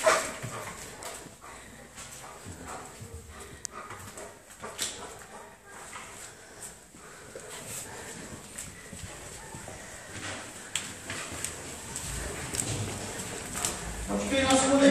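A police dog barks and whimpers during an arrest inside a building, its sharp barks scattered between excited, overlapping shouting from several people.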